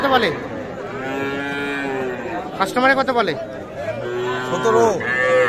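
A bull calf moos repeatedly at close range at a cattle market, long drawn-out bellows with short pauses between them, while people chatter faintly in the background.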